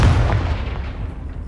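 A Confringo fire spell exploding in Hogwarts Legacy, a loud, close, deep boom that rolls off into a fading rumble.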